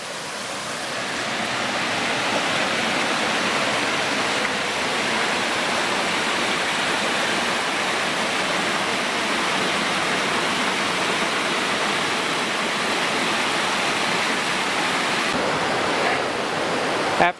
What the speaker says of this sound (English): So I'm right here at the waterfall,